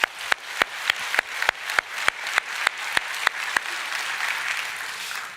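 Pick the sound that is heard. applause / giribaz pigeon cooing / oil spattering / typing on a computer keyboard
applause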